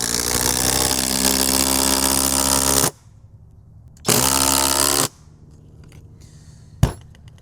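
Flex impact driver running a fastener, loud steady whirring bursts for about three seconds and again for one second, separated by quiet gaps and ending with a sharp single knock; no talking.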